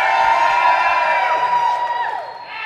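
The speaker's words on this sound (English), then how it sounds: "Let's hear a shout from you" Open-stage audience shouts and cheers together, a loud sustained mass of voices with whoops and rising yells, fading slightly toward the end.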